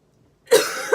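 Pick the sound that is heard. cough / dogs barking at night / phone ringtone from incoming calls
cough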